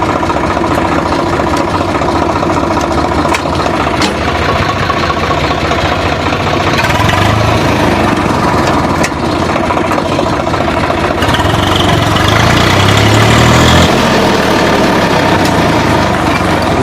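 Second-hand 2020 Swaraj 742 XT tractor engine running steadily during a gear test, with a loud, continuous diesel rumble, occasional clunks and a rise in engine note toward the end, close by.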